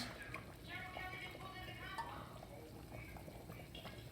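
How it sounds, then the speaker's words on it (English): Water coming to the boil in a pot while cooking South Indian curry chicken: faint bubbling and small pops, with quiet speech over it. "I can hear that water starting to pop off now"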